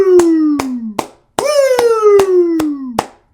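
Sharp, loud hand claps land in a steady, evenly spaced rhythm close by. A sustained, sliding vocal tone runs beneath them and breaks off twice between phrases.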